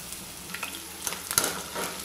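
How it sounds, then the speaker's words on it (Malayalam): Soya chunks deep frying in hot refined oil give a soft, steady sizzle with a few brief clinks of a utensil, fairly quiet and with no voices. "ഇതിലേക്ക് നമുക്കിതിൻ്റെ ഓരോ സോയ ചങ്ക്സ് ഇട്ട് വറുത്തെടുക്കാം."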